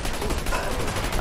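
Gunfire in the first-person shooter Dirty Bomb, a brief, dense crackle of rapid shots heard alone at moderate volume.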